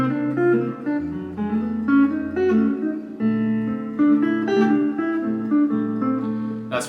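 Jazz guitar plays a minor pentatonic lick over a 2-5-1, a run of clean single notes over a sustained low bass part that changes twice, moderate tempo, close and alone.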